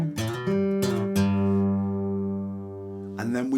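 An acoustic guitar plays the ending lick of a song: a few quick strums and picked notes, then a long ringing chord that fades before a last flurry, close and alone.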